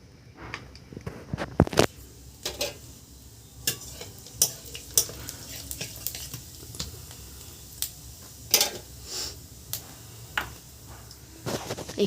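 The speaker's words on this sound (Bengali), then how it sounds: "তো আমি এখানে জিরে ফোড়ন দিয়ে দেবো।" Cumin seeds sizzling in hot mustard oil for tempering a tilapia, taro and potato curry, with a soft steady fry under repeated sharp clinks and scrapes of a spoon stirring in the pan.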